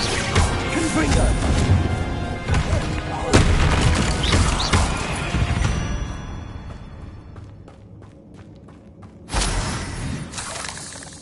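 Repeated explosive spell blasts from Hogwarts Legacy crash and shatter loudly, one sharp impact around three seconds and another burst near nine seconds, over a dense layer of game music and effects.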